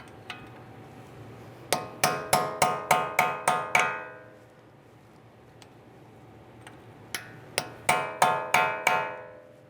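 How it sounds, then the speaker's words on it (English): Hammer blows drive a punch against the peened-over collar of a front spindle nut on a 2013-2016 Dodge Dart 2.4L during CV axle replacement; two bursts of six or seven sharp, ringing metallic strikes come in quick, steady rhythm, close and loud. "I'm just going to use a punch, and where it's peened over, we'll just try to pop it out a little bit."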